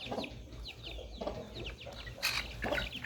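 A brood of about ten newborn chicks keeps up rapid, high, repeated cheeping at close range, overlapping chirps with a few louder peeps and no talking.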